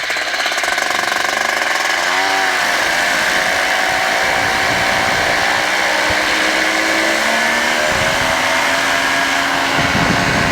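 A light aircraft engine runs up to full power for takeoff, a loud, steady, buzzing roar heard from inside the cockpit that stays constant throughout, with slight pitch shifts as it climbs away.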